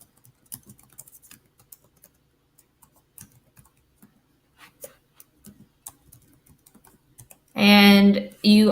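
Fingers tap at a computer keyboard while school sign-up information is entered, producing light, scattered clicks at an uneven pace, followed near the end by a short burst of loud noise.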